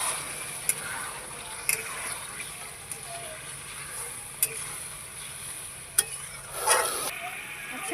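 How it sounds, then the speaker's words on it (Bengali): Braised meat being stirred in a pot after water is added, with a soft, continuous sizzle and bubbling broken by several sharp clinks of a spoon against the pan. "জল দিয়ে একটু নেড়ে দেবো।"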